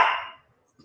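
A small dog lets out a single short yap, fairly close, followed by near silence.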